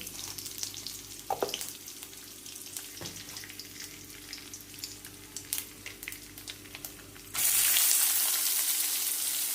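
Mustard seeds, cumin and curry leaves sizzle and crackle steadily in hot oil, with scattered pops and a few stirring clinks, growing into a louder hiss near the end.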